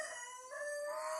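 Young geese around five months old, one gander and two geese, call in a single loud, nasal honking cry that rises and holds for about a second, close and clear with no talk.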